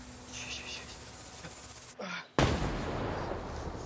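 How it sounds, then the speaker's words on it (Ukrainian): A sudden loud burst of gunfire cuts in after faint murmuring and a short quiet gap, followed by sustained rumbling noise. "Так, стріляють."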